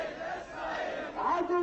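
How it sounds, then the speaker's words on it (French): A crowd at a Hezbollah rally chants slogans in unison, a dense wall of raised voices with rising shouted tones toward the end, close and steady throughout the short stretch. "Au fil des slogans, la foule s'échauffe"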